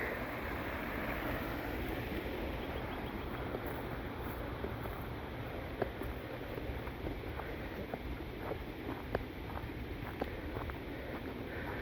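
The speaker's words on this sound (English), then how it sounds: "There's a little rapids on the Etobicoke Creek." Small rapids on Etobicoke Creek give a faint, steady wash of running water heard from a distance, with a few soft clicks and light wind noise outdoors.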